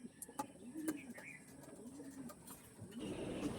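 Pigeons cooing nearby in a loft of fancy breeds such as a Dragon-faced hen, with low rolling coos and a few sharp chirps and clicks scattered over a quiet background.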